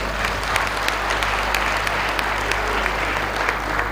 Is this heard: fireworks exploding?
no